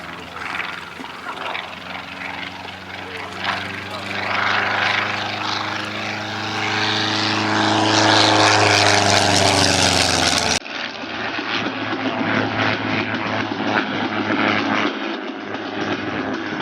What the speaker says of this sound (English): Titch is powered by a converted Continental PC60 with around 100 horsepower, and you can see it makes it a very punchy performer.